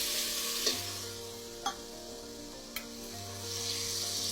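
Onion and garlic fry gently in oil, a soft steady sizzle with a low hum underneath and three sharp clicks of a utensil against the pan.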